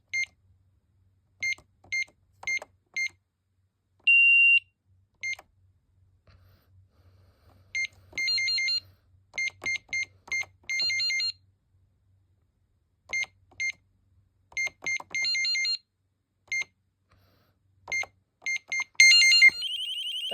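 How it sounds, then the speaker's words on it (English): Panic alarm of a Sky Link SC-001 security keypad: sharp electronic beeps in short bursts, some single and some in rapid clusters, separated by pauses, with a brief steady tone midway and a denser burst at the end. "That's what it sounds like, the panic alarm."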